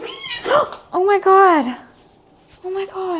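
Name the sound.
cat yowling after its tail was stepped on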